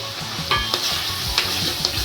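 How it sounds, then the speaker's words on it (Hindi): Kachri pieces tipped into a hot pan of frying spices for a Rajasthani gawar fali sabzi, a close steady sizzle punctuated by several sharp stirring clinks and scrapes against the pan. "अब देखिए काचरी डाल रही हूँ इसके अंदर।"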